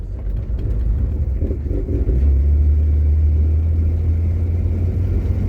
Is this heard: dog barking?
no